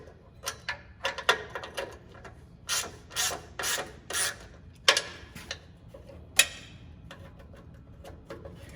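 A ratchet loosens the motor mount bolts on a C10 truck during an LS engine swap. Close, repeated bursts of rapid clicking come in several separate strokes with short pauses between them, and no one talks.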